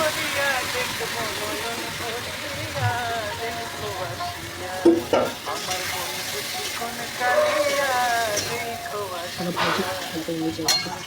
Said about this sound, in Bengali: এবার আমরা মাংসগুলোকে ধীরে ধীরে কড়াইয়ের মধ্যে ছেড়ে দিচ্ছি